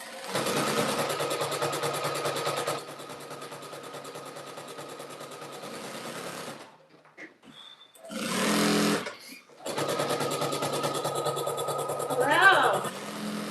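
Sewing machine stitching seams on a jelly roll rug, a steady fast mechanical whir running in long continuous bursts, stopping briefly and restarting, fairly loud and close with a pause in the middle.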